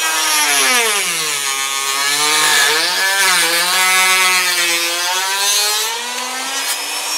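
A Dremel rotary tool cuts and trims a Kydex knife sheath, producing a loud, steady high-pitched whine that bends in pitch as the load changes, continuous and close, with no talking.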